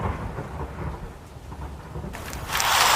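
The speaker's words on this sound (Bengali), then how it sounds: "সুন্দরপুর গ্রামে মুষলধারে বৃষ্টি শুরু হয়" Heavy downpour and thunder in a Bengali village in a cartoon, with a steady roar of rain and low rumbling that swells loudly toward the end, with no voices.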